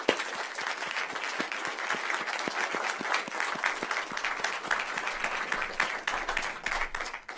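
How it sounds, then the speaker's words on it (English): Audience at a school board meeting giving a round of applause, many hands clapping in a continuous patter with distinct nearby claps, sustained throughout at moderate level. "Let's give them all a round of applause."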